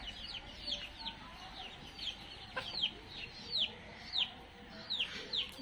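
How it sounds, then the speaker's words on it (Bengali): Chickens at a rural household cluck in short, repeated calls spaced about every half second, moderately close, over a quiet outdoor background with no talk. "আর এই যে মুরগিগুলা"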